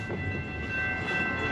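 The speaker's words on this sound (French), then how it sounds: "Bon, le train vient de passer." A train rolls through a level crossing without barriers in the USA, giving a steady, close rumble with faint wheel clatter and a thin sustained whine, continuous throughout with no voices.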